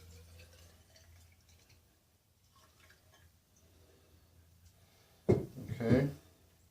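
Beer being drawn from a home-brew fermenter into a hydrometer sample tube, heard as a short splashing, dripping burst of liquid near the end after a quiet stretch with faint background hum.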